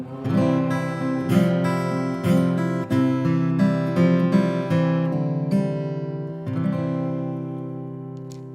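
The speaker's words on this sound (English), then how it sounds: "that's the sound of a Martin guitar." A Martin acoustic guitar strummed and picked alone, bright ringing chords with rich sustain, a steady close-up performance fading slightly at the end.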